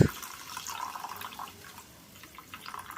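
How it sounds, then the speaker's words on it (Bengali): Half a cup of water poured into a cooking pot for a Bengali dudh mouri potol recipe, a soft brief splash and trickle heard close and faint. "এবারেতে দিয়ে দেব হাফ কাপ মতো জল"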